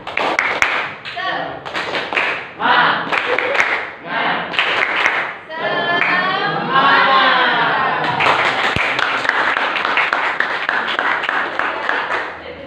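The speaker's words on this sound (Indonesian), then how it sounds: "Explainingnya dengan tepuk semangat ya." Students in an Indonesian sociology classroom do a tepuk semangat chant: bursts of loud, rhythmic group clapping, then voices chanting together, then more patterned claps mixed with the chant.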